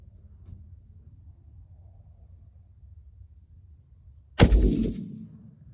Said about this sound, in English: Shot 1 with the Barnes 130 grain TTSX.